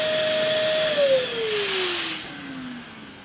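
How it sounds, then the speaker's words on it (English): Dyson Simplicity vacuum motor blowing air, a steady loud whine whose pitch slides slowly downward as the motor winds down, with broad airy rushing noise above it and no voices. "this motor is actually blowing air through"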